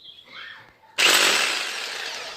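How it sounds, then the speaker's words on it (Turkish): A hammer drill suddenly starts up loud and close, a dense harsh whine and grind that holds steady after a short stretch of quieter shuffling, drilling to mount a curtain rail. "Hiltimizi aldık elimize. Deleceğiz."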